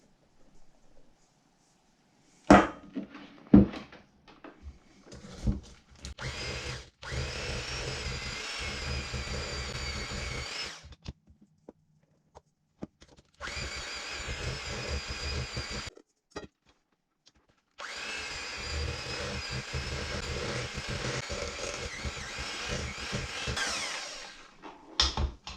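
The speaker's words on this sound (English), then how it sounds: "we are going to just slowly start to beat this flour mixture into the wet ingredients" Electric mixer beating flour mixture into wet cookie dough for brown butter M&M cookies, three long steady whirring runs separated by pauses with a few bowl knocks, close and moderately loud.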